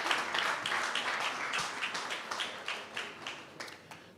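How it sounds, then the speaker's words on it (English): An audience at a student representative council gala dinner applauds as people sit down, a dense patter of hand claps that thins into scattered individual claps toward the end. "Let's clap hands for them as they sit down"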